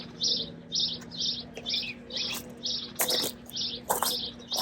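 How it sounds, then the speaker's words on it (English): Small finches chirp at a backyard bird feeder, a steady run of about a dozen short, bright tweets in a regular rhythm, close and clear over a faint low hum, with a couple of louder sharp calls near the end. "they come and sit on the bird feeder and knock the food down for the quail and the dove"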